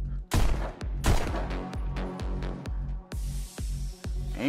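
Rapid pistol shots from the VR rhythm shooter Pistol Whip crack out roughly every third of a second, about a dozen sharp reports over a pulsing electronic soundtrack.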